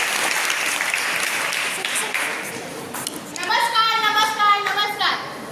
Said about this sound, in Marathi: मी त्यांना आवाहन करतो, टाळ्या वाजवून स्वागत करा.